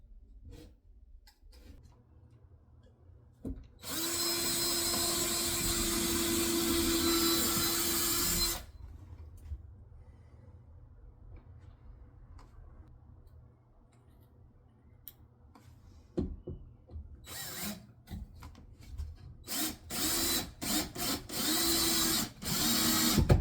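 A power drill drives screws through shims into an entrance door jamb during a replacement, with one long loud whir followed by several short bursts and clicks nearby, and no talking.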